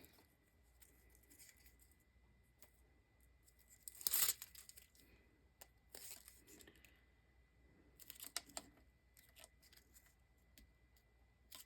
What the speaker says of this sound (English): I have another strip that I cut out. And I'll peel the back off.